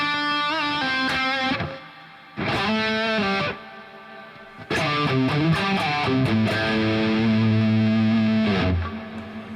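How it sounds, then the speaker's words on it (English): Distorted electric guitar lead with a compressor on the output and reverb, played in sustained melodic phrases with bends and held notes; the reverb tail swells and rings out between bursts of playing, loud and close, with no talking. "for lead tones like this specifically, I love to use a little bit of the final compressor on the output"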